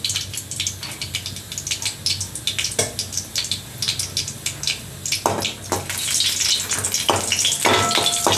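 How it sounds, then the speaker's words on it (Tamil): Four dried red chillies frying in a little oil over a low flame, a dense continuous crackling sizzle with sharp pops, close and loud, and no one speaking. "கொஞ்சம் எண்ணெய், இந்த 4 காஞ்ச மிளகாய் வறுக்கணும்."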